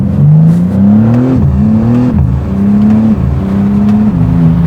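A BMW engine revs hard and close, pitch climbing and dropping through several gear changes, loud and continuous with no talking.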